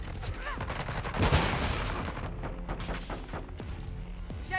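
Rapid automatic gunfire in Modern Warfare 2 multiplayer, dense overlapping bursts with a heavier blast early on, continuous battle noise throughout.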